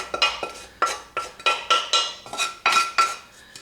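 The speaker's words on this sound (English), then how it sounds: "now what I'm going to do is I'm going to add the bacon to the white sauce" Bacon being spooned into white sauce in a dish while macaroni cheese is prepared, giving a close series of rhythmic clinks and scrapes of utensil against dish, roughly eight distinct knocks with no talking.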